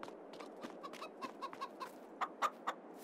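Chickens clucking in the farming game Farming Simulator 22, a run of soft, close single clucks that grow slightly louder toward the end, with no talk.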